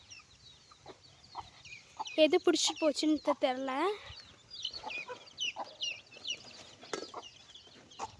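A grey country hen clucks among her chicks in a backyard flock, a burst of louder close clucks and calls in the middle, with a person speaking softly nearby.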